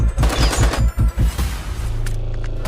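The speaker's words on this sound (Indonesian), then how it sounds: "Tripeni yang masih adu tembak dengan para teroris" Heavy, rapid automatic gunfire rattles in dense bursts during a film shootout with terrorists, loud and close, then fades into booming echoes and rumble.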